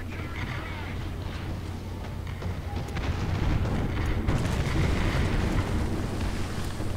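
Tank cannon fire and explosions in War Thunder from an American M4A1 (76) W medium tank, heard as a constant loud rumble with booming blasts and crackle. A voice murmurs faintly beneath it.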